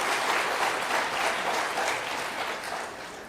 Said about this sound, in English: Can we have another round of applause from the far side, please?